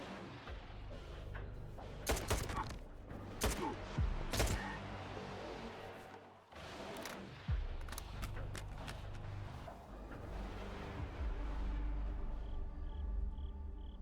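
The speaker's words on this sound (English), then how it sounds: "Is he shooting me through a wall?" Enemy gunfire in the shooter game Stalker 2, several sharp shots and bursts cracking out at irregular intervals over a steady low background, some loud and close, others quieter.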